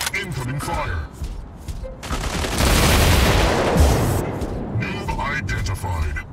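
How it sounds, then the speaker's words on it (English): Sustained gunfire from robots in the Mech Arena video game, a dense rattling fusillade that swells loud in the middle of the clip, with bursts of game voice and effects around it. "opening fire."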